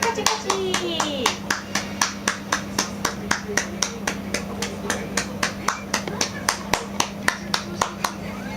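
A toddler claps his hands in a steady run of about thirty crisp, even claps, close and fairly loud, with a faint voice and a low steady hum beneath.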